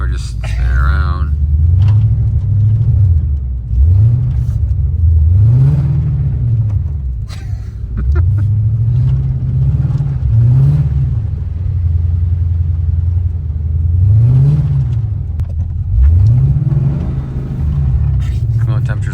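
A Ford Fox body with a swapped Coyote engine doing a burnout on Nexen tires. The engine rumbles loud and close while its pitch repeatedly rises and falls as the tires spin, with a person talking over the noise.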